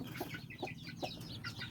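A backyard chicken clucks in short, evenly spaced bursts, about four quick calls over under two seconds, faint and close with no talking.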